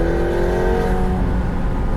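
A 2020 McLaren 720S Spider accelerating hard, its engine a loud, close roar that climbs in pitch under full throttle and stays strong throughout.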